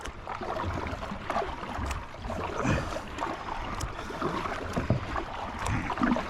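Kayak paddled across Lake Eufaula by hand, with a continuous close splashing and dipping wash of water and soft wind, paddle strokes blending into a steady rough rush.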